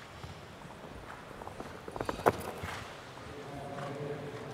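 A Dutch-bred show-jumping horse's hooves thud faintly on the arena ground in a few soft, scattered beats, with one sharper impact near the middle, amid distant background noise.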